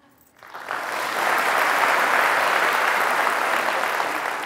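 An audience in a talk setting bursts into applause, a dense steady wash of clapping that rises quickly and holds strong for several seconds with no one speaking.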